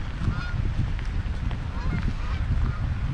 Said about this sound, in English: Geese coming in for a landing.